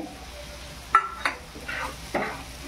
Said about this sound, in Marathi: तर आता आपण ते कापलेला कढीपत्ता टाकू।